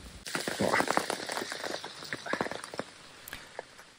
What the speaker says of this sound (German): weil es ja draußen immer noch regnet